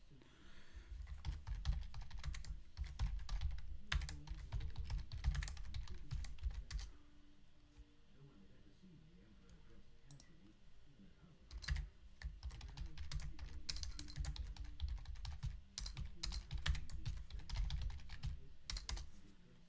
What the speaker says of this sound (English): I am typing as we speak